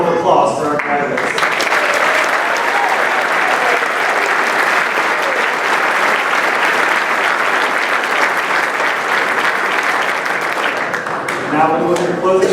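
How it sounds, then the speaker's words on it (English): An audience at a military graduation ceremony gives the graduates a sustained round of applause, dense loud clapping throughout, with a voice speaking briefly at the start and end. "how about one more round of applause for our graduates?"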